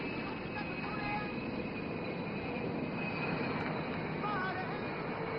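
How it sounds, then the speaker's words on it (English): A Sukhoi Su-30MKI fighter jet landing at the Aero India air show, heard as a steady, broad, distant roar with a faint engine whine running beneath it, unchanging throughout. "was the mighty Sukhoi 30 MKI demonstrating its superior agility"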